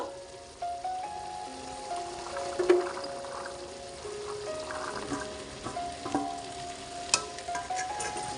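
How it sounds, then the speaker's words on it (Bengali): Chickpea dal added to a pan of fried spices, giving a soft, fairly quiet sizzle with occasional stirring clinks and scrapes throughout. "এ পর্যায়ে আমি ডালগুলো দিয়ে দিব"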